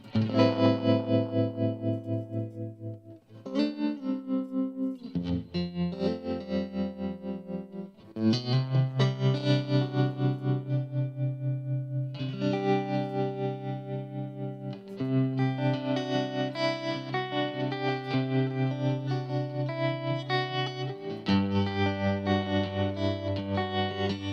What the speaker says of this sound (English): you can hear that the tremolo is post the reverb